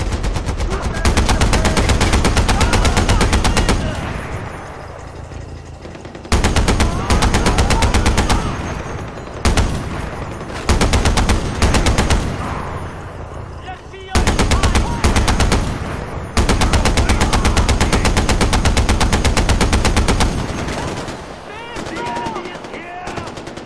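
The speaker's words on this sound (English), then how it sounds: "Taking heavy fire!" Heavy machine-gun fire rattles through a Far Cry 4 firefight in long, loud, sustained bursts broken by brief pauses, with shouted voices mixed into the chaos.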